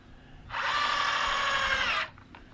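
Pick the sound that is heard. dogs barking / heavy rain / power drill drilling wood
power drill drilling wood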